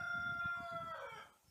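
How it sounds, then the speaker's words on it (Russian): A neighbour's rooster crows once in the countryside, a drawn-out cry rising and fading, fairly distant, over a low rumbling background. "Петухи у соседей кричат."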